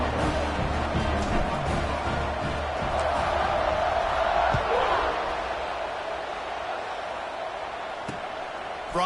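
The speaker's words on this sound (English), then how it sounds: "this crowd is buzzing after that last score" Football stadium crowd at an NCAA game buzzing after a score, a dense steady roar of many voices held at an even loudness through the whole stretch, with a few faint thumps in the mix.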